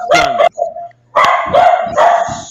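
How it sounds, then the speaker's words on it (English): A big dog gives several loud, deep barks close by, one burst, then a pause, then a run of repeated barks. "Somebody has a big dog, Clyde."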